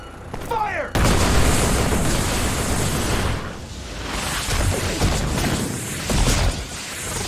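Sustained gunfire and heavy artillery explosions from a Scarlet Nexus cutscene, a loud dense barrage that starts abruptly after a brief quieter opening and rumbles on continuously with swelling booms.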